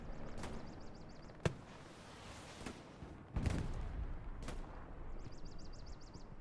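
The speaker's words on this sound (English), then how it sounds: "Here's some shooting back here." Scattered gunshots in a World War II battle at Utah Beach, several sharp cracks spaced apart over a constant rumbling background, mostly distant with one closer burst.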